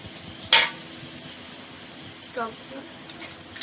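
Soft steady sizzle of food frying in oil, with a brief sharp clatter near the start and faint voices in the background.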